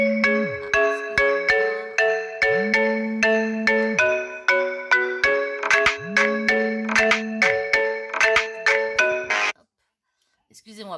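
A phone ringtone plays a bright, repeating electronic melody of chiming tones, loud and close, then cuts off abruptly near the end.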